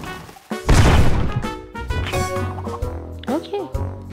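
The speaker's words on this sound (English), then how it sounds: "One more cannon." Another cannon booster blast in the mobile puzzle game Royal Match hits with a loud crash and splashy burst, followed by chimes, sliding effects and cheerful game music.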